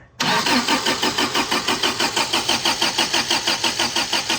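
An 1980s Toyota turbo truck engine cranks without firing, a strong, even chug of starter pulses repeating for several seconds up close with no catch and no voices.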